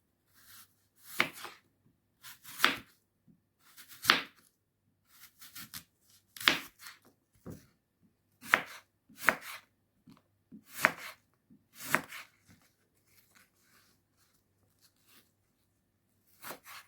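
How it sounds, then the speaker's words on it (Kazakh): A kitchen knife dices an apple into small cubes on a board: a dozen or so crisp, close chops in uneven bursts, then quiet at the end. "Енді алманы тураймыз."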